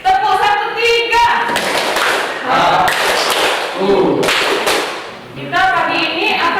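A chemistry class clapping a short counted rhythm together, loud sharp group claps in bursts with brief pauses between, voices mixed in.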